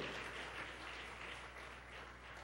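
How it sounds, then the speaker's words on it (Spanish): A church congregation claps and applauds for the Lord during a Sunday sermon, a steady, dense wash of clapping sustained throughout, moderately loud and with no talk over it. "Gracias por darle estas palmas al Señor."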